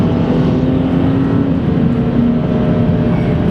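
A BMW 335ci accelerating hard: a loud, steady engine drone with a strong tonal hum that holds a sustained pull through the short run, close and continuous, without talk.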